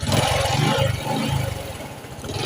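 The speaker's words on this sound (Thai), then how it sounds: "เดี๋ยวผมจะเร่งเครื่องนะครับ" Honda Wave 110i motorcycle engine revving close by, a loud throbbing mechanical drone that rises and falls in pulses.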